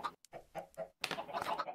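Minecraft chickens cluck in short choppy bursts, a few separate clucks followed by a denser overlapping flurry, fairly close but quiet.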